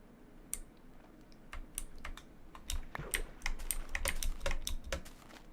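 A loud computer keyboard clatters with rapid, irregular key presses, close to the microphone, sparse at first and then denser, with no talking over it.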